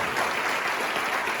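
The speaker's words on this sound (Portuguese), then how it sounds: "Aplauda o nome do Senhor," A church congregation applauds, a dense, steady wash of clapping filling the room for the whole moment with no break.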